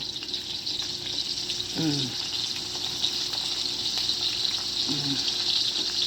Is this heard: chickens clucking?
no